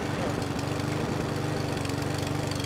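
A lawn mower engine in the video game Who's Your Daddy, a rapid chugging, sputtering drone that runs steadily at moderate loudness with voices talking over it.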